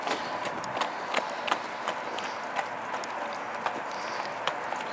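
A horse's hooves clip-clop in a steady rhythm at a show, moderately distant under a broad background hiss, with a few sharper hoof strikes standing out.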